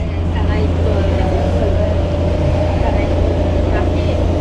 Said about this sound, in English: And this boat is going good and quick.